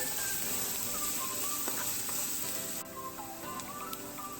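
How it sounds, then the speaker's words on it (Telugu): Green chilies and onions fry in hot oil for vegetable fried rice, producing a steady, dense sizzle with faint crackles and occasional stirring taps throughout. "పచ్చిమిర్చి ఇప్పుడు ఒకసారి బాగా వేయించుకోవాలండి, మాడిపోకుండా ఉండాలి"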